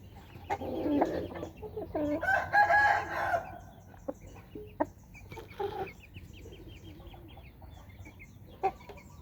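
A large, tall young game rooster around nine to ten months old crows outdoors, a few clear crows with clucks and bird calls between them, fairly close and mid-loud.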